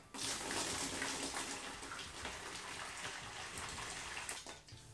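Water pours steadily into a container, a continuous splashing rush that starts abruptly and holds at a fairly even level for several seconds.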